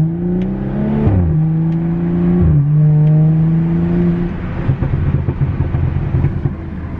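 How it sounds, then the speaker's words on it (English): BMW F30 335i with a Bootmod3 stage 2 tune, its engine droning and revving in third gear as pitch rises and drops, followed by a rough crackling burble of exhaust pops on deceleration, loud and close. "Those third gear pops though, guys."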